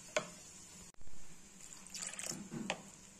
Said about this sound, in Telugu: ఇప్పుడు కొంచెం వాటర్ వేసి కొంచెం ఇడ్లీ పిండి మాదిరిగా కలుపుకుందాం